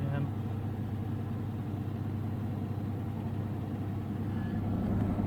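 A Samsung Ecobubble silver washing machine spins up toward 1,000 RPM, a steady low drum rumble and whirring hum that holds even and continuous, moderately loud and close.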